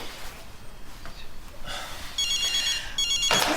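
A mobile phone rings in a domestic drama scene, its electronic trill starting partway through and repeating in short bright bursts over faint room sound.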